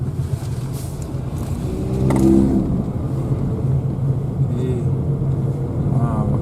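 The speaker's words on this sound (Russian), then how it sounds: "Очень много машин." Heavy road traffic heard from inside a moving Lada Kalina, a continuous rumbling roar of passing cars that swells in the middle, with a person talking over it.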